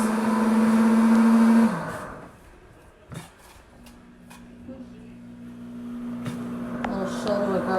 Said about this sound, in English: And there's my blender finishing the last minute.